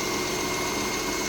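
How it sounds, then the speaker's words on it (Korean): A Mercedes-Benz W212 E300 engine idles after timing belt and cylinder head repair, a steady, even hum with a faint regular pulse, close and continuous with no voices. "엔진 소리도 좋고"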